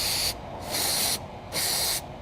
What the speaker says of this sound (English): I'm gonna grab some of our electric connector cleaner